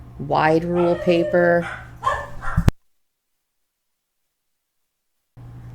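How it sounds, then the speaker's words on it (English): A dog barks and yips in short bursts close by at home while a person talks, then the sound cuts to silence before faint noise returns. "Sorry about the dogs barking, working from home."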